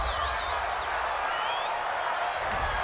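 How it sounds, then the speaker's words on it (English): Home crowd at a college football game between Stanford and UCF, a broad, steady roar of cheering across the stadium after a penalty call, with faint whistles rising above it. "This home crowd, they're happy with that call."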